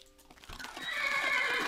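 Horse neighing in Minecraft, a single whinny that rises after a short quiet start and holds loud and bright to the end, with no talk over it.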